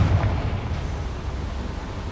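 A Confringo blasting curse goes off in Hogwarts Legacy as a single muffled explosive burst, strongest at the start, then fades into a low rumbling tail.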